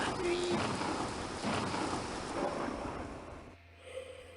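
Rain falls in the video game Tibili, a broad hiss of steady downpour that fades out near the end, with no speech.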